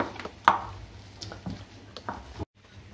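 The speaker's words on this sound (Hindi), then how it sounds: "इनको हम इस मैशर से मैश करके" Boiled black chickpeas in a bowl being crushed with a kitchen masher, a few soft squishing thuds and presses in quick succession, close and fairly quiet.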